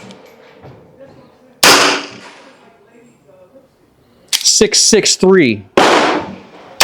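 Two sharp, loud cracks from a 22LR pocket pistol firing CCI high velocity rounds, spaced a few seconds apart, with a voice speaking between the shots.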